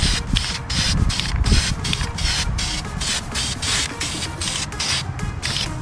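Spray gun painting the bare metal body of a VW Roadster, a steady close hiss broken by regular short pauses as the gun trigger is released, loud and continuous throughout.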